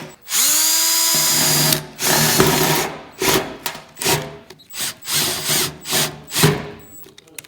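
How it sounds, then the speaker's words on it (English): A power drill with a hole saw cuts through the sheet-metal roof skin of a rat rod wrecker truck, first in one long steady whine, then in a series of short, loud grinding bursts with brief pauses between them. "drill a hole through the roof skins to run the antenna wire and the wires for the lights."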